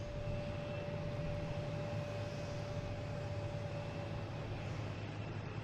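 A WestJet airliner at Boston Logan International Airport, heard as a steady, fairly faint engine drone with a thin whine, continuous and distant with no talk.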